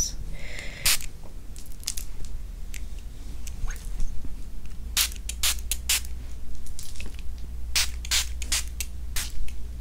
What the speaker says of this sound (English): I'm gonna spray some water.